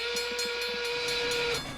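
A cartoon steam train's whistle sounds as the engine pulls into a station: one long, steady, shrill tone over a broad hiss of steam, with a soft rhythmic chuffing beneath before it drops away.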